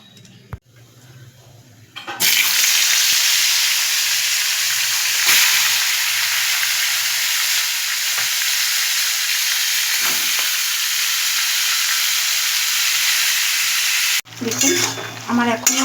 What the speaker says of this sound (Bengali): এখান থেকে শুধু মাথাগুলো নিয়ে আমি ভেজে নেব।